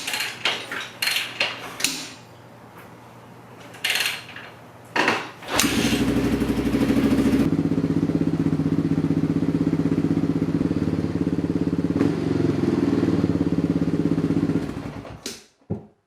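A Honda XR650R supermoto on half choke is kicked over with several thumps and clanks, then starts and idles loudly up close with a slightly hunting rhythm before being cut off.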